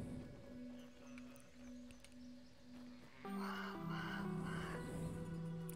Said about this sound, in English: I really like listening to the crow. It sounds like distorted.